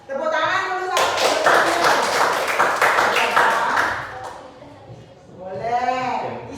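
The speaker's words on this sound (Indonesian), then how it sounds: "Tepuk tangan dulu satu." A group claps in a quick, even rhythm for about three seconds in a classroom-style setting, loud and close. Speech-like voices come before and after the clapping.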